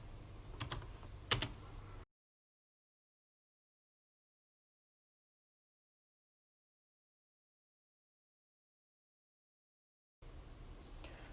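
Rapid typing clicks on an IBM Personal Computer 5150 keyboard for a couple of seconds, then near silence, then soft typing resumes at the end.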